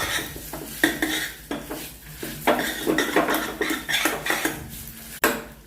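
Rice roasts in ghee in a pot while a metal spoon stirs it steadily, scraping and clinking against the sides in repeated, uneven strokes, close and fairly loud with no talking.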